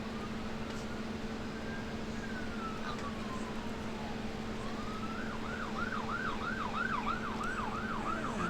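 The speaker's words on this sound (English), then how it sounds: "I hear sirens outside, not sure if you guys can hear it, just a fire truck going out." A fire truck siren wails outside at a distance, faint beneath a constant low engine hum, starting as slow rising and falling sweeps then switching to rapid repeated yelps.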